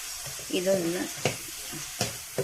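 Ingredients for a tomato varutharacha curry fry in a pan, a steady soft sizzle with a few stirring scrapes and brief clinks; a faint voice-like tone sits underneath early on.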